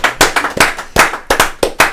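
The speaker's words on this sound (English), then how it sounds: "I got to applaud that" Irregular hand clapping up close, about eight sharp claps in quick succession from one person, with no voices.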